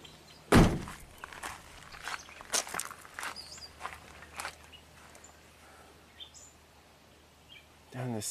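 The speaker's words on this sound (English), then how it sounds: "So if we close the door" A single solid thunk of a 1997 Ford F150 door shutting lands near the start, close and firm, followed by faint shuffling and small knocks in a quiet outdoor setting with soft background sounds.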